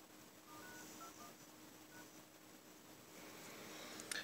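An iPhone 11 keypad plays dialing tones: a few faint, short beeps in a row over a quiet hiss.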